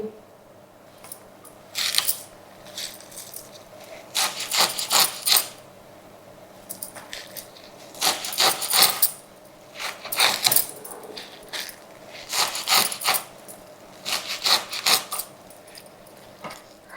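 A knife chops spring onion greens on a board, bursts of quick crisp cuts in clusters separated by short pauses, close and fairly loud.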